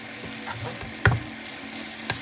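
Beetroot fry gets stirred in a hot pan, a soft sizzle running throughout with one sharp scrape of the spoon against the pan and a lighter clink near the end, close and quiet.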